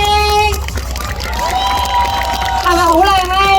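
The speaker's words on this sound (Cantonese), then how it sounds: "我哋俾啲掌聲" An audience at a birthday show cheers and shouts in a loud, sustained burst, with crowd noise and music filling the space throughout.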